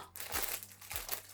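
Plastic packaging from an AliExpress parcel crinkles and crunches as it is opened, with two sharper rustling bursts standing out among the close, continuous crackle; no talking.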